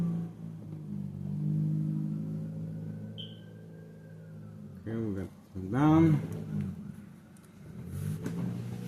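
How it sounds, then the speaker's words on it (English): A car engine with an odd muffler note gives a low, steady rumble under close conversation, rising briefly as people talk over it. "The car has a weird sound."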